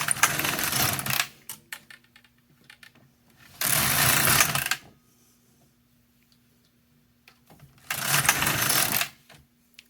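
A knitting machine knits rows of waste yarn, the carriage sweeping across in three loud whooshing, clattering passes about four seconds apart, with quiet gaps between them.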